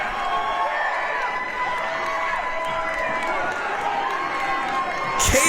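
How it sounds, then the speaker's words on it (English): A wrestling arena crowd roars steadily throughout, a dense wash of cheering and shouting at a championship match, swelling sharply in the final moment. "Listen to this crowd!"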